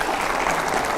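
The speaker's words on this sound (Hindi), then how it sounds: "जोरदार तालियां" A political event audience breaks into brief, loud applause, a dense burst of clapping filling the moment.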